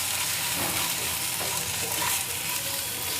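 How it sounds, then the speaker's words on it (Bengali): Spice powders, including cumin and chilli, fry in a pan while being mixed, a dense continuous sizzle with soft scraping of stirring underneath, loud and close throughout. "উপকরণগুলো মিশিয়ে নেব।"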